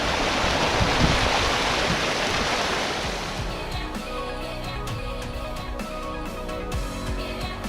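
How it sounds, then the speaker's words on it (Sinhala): Rushing water at the top of the third waterfall of Garadi Ella in Kalugala, Sri Lanka: a loud, steady roar for the first few seconds, then a softer flow with scattered clicks and splashes. "අපි දැන් ඉන්නේ තුන්වෙනි ඇල්ල මුදුනේ."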